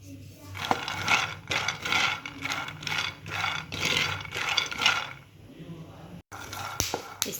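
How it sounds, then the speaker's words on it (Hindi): Peanuts rattle and scrape as they are stirred in a hot pan, a steady run of close, gritty strokes with a brief pause near the end, under quiet background talk. "अब इसके अंदर डालेंगे हम फली, इसको अच्छे से भून लेंगे।"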